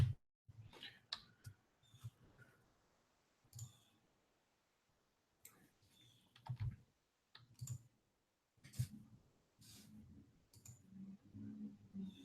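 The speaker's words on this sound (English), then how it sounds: "I was clicking on the screen that I'm like presenting to you on" Computer mouse clicking in short, sharp, irregular bursts, some clustered and some spaced apart, close and fairly quiet over a faint low background hum.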